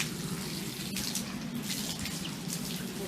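Water runs steadily down a gutter while a horse's tail is washed, a continuous soft splashing trickle at moderate distance with faint bubbling and no talk.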